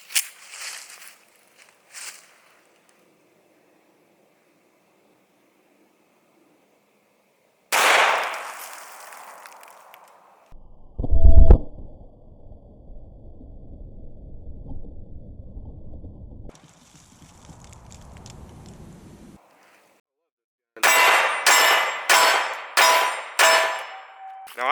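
A World War II-era 1911 pistol fires .45 ACP rounds into a cinder block, giving a few sharp, loud cracks with impact clangs, then a quick run of five or six close shots near the end, with quiet gaps between.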